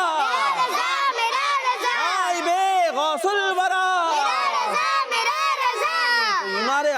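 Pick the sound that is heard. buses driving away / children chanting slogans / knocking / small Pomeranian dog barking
children chanting slogans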